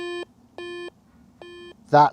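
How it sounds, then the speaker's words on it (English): A Rippton Bitekeeper Cube bite alarm receiver sounds three evenly spaced electronic beeps, each steady and about a third of a second long, over a low hum. A short loud voice follows at the end. "every time you touch the alarm button, your receiver will go off and you'll get a notification of how loud it is"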